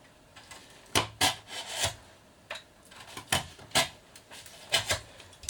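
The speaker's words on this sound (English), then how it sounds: "What I do is I cut the styrofoam" Styrofoam being cut into strips for a sidemount diving helmet, a series of short, close rasping and scraping strokes in irregular bursts, with no talking.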